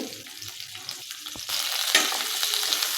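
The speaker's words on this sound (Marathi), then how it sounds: "आता हे मसाले एक मिनिटभर या तेलामध्ये परतून घेऊया" Spices such as turmeric, coriander powder and cumin powder sautéing in hot oil for corn chivda, a steady crackling sizzle with stirring scrapes that grows louder partway through, close and continuous with no talking.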